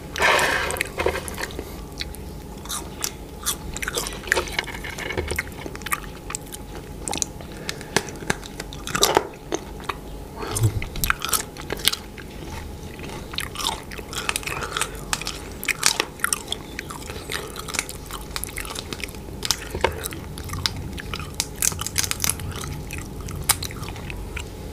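Crunchy fried insects and worms, including giant water bugs, chewed up close with dense, continuous crisp bites and wet mastication throughout, no talking over it.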